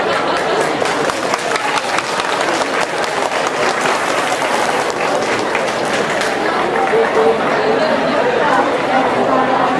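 Dense, loud applause fills the hall at a Vietnamese Catholic community dinner celebrating Mother's Day, a steady roar of clapping with crowd chatter mixed underneath.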